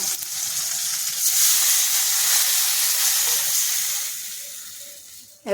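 A pot of fish curry bubbling and hissing steadily at a simmer for several seconds, fading slightly before a short clatter at the end.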